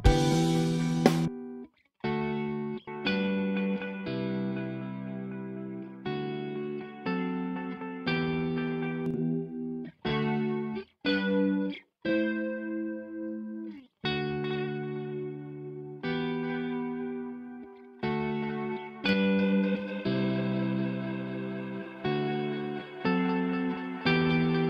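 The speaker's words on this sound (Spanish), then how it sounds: "ese sería el tape delay que hablábamos al principio, que usaban gente como Chet Atkins o Scotty Moore" Electric guitar phrases run through a Valhalla DSP tape delay plugin preset in the style of a vintage tape echo, each short melodic burst trailing off in repeats, with no talking.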